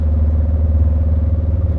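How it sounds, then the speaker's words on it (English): A Subaru WRX STi fitted with an Invidia Q300 exhaust idles with a deep, steady burbling rumble, a low pulsing throb that stays constant and close without any talking. "You really do get that Subaru rumble that you're probably used to."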